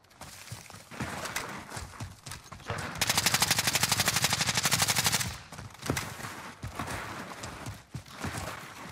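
Rapid automatic gunfire from Modern Warfare, a dense sustained burst of evenly spaced shots lasting a couple of seconds, with scattered single shots and game noise around it.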